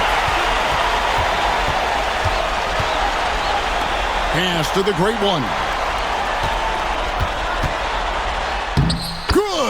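Arena crowd noise at an NBA 2K25 basketball game between FIBA USA and Spain, a dense continuous roar of cheering with sneaker squeaks and ball bounces, under a commentator's voice.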